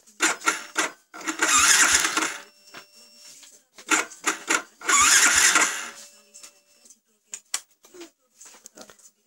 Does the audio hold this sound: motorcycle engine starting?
yes